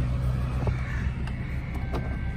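A Ram pickup truck on Nitto Ridge Grappler tires sits in about an inch of snow, its engine running with a steady, close low rumble and faint higher whines over it.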